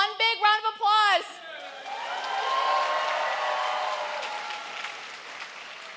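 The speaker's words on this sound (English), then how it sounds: "let's give our MCs one big round of applause" A theatre audience at a dance show breaks into applause and whoops for the emcees, a moderate wash of clapping swelling after a voice speaks and then gradually thinning out.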